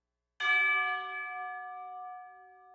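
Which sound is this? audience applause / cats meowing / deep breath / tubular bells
tubular bells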